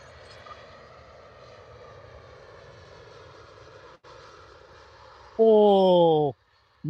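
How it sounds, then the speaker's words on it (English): An easyJet Airbus A320 from Belfast lands at Liverpool Airport in strong wind and heavy rain, a faint steady engine roar heard at a distance, followed by a brief loud whistling tone near the end. "easyJet A320 from Belfast."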